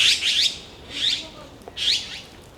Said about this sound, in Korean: 좀 특이한 새소리가 나네.